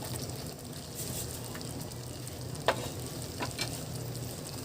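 Tofu frying in a pan with a little sauce, giving a soft, steady sizzle with a few faint scrapes and clinks, quiet and close.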